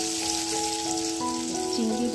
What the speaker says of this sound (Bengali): চিংড়ি মাছ বেশি ভাজলে শক্ত হয়ে যাবে, এরকমই নেমে নেব।